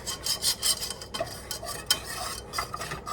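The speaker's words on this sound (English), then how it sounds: "which with this gigantic whisk is not exactly the easiest task on the planet" A gigantic whisk scrapes and stirs butter into a macaroni and cheese sauce in a home kitchen, with uneven rasping, swishing strokes in quick bursts, close and fairly loud, without talking.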